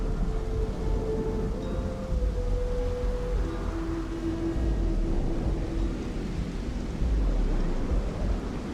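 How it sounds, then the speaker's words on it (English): A constant lightning storm on a planet in Starfield: steady rumbling thunder and rain-like wash with low tonal hums drifting through, continuous and fairly loud, no talk. "Is it just constantly like lightning storms on this planet?"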